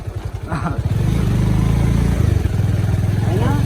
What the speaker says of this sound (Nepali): bike riding off roading Avenger with off roading